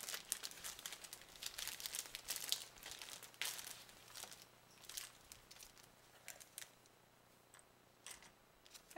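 Paper sent in a craft swap package is handled close up. It gives repeated crisp crinkles and rustles in irregular bursts that are busier at first and thin out toward the end.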